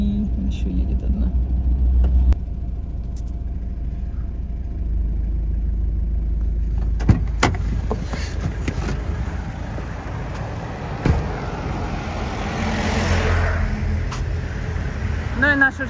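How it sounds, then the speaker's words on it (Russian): Heavy army trucks rumble past on a road with a loud, continuous low drone, rising and swelling as another vehicle approaches near the end, while a person talks over the engine noise. "Огромное количество армейских машин."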